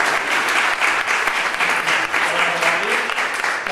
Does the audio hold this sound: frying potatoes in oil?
no